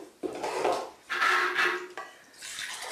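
Parts of a Champion juicer being fitted back together, with clattering plastic and metal knocks and handling noises in three bursts separated by short pauses, close by.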